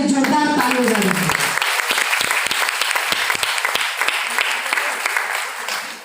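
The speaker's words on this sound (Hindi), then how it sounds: "जोरदार ताली हो जाए" An audience at a gathering bursts into loud, sustained applause right after a brief spoken introduction, the dense clapping filling the space and tapering slightly toward the end.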